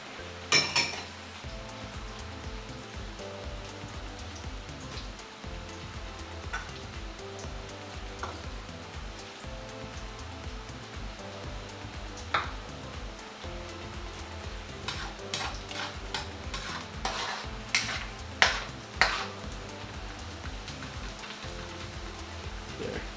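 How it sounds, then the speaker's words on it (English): Onions and garlic sauteing in a pan for a homemade faux paella, a steady soft sizzle running throughout with occasional scraping stir sounds and utensil clinks growing more frequent near the end; no talking. "you saute this until the onions turn translucent and the garlic is not raw"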